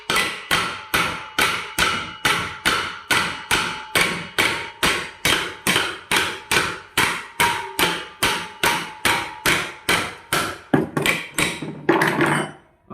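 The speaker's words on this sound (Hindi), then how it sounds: "तो अब इसको क्या करेंगे, हथौड़े से ठोकते हैं।" A hammer strikes steadily to drive a bearing onto a DC motor shaft, about twenty-five sharp metallic blows at an even rhythm, loud and close, ending in a few irregular knocks.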